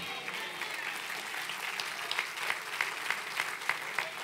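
Steady applause from a church congregation fills the clip, with sharper individual claps standing out toward the end.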